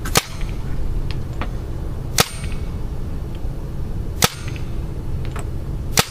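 A Spyder E-MR5 paintball marker fires outdoors, with four sharp, isolated shots spaced about two seconds apart over a constant low background rumble.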